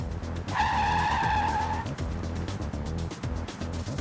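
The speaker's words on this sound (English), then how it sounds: "I'm gonna take this car and I'm gonna skid at 30" A car skids at 30 mph, its tires letting out a loud, sustained squeal of about a second and a half over the engine and road noise, which continue afterward.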